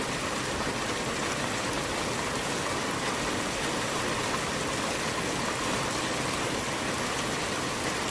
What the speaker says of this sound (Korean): 아, 지금 비가 계속 오고 있는데요.